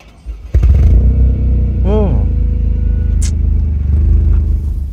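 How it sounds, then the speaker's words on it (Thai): A Toyota GR Corolla engine cranks and fires up abruptly, then settles into a deep, loud rumbling idle from its triple exhaust with a brief rev. "ขออนุญาตสตาร์ทเครื่องยนต์นะครับ"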